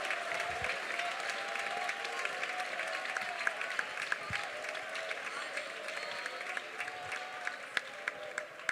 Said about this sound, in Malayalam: സൗകര്യപ്പെട്ട കൈയടിച്ചാൽ മതി